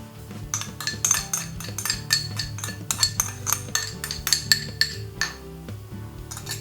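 A utensil clinks and scrapes rapidly against a bowl while tofu burger mixture with flax egg, salt, garlic powder and yeast is stirred together, with dense, rhythmic metallic taps close by and no talking.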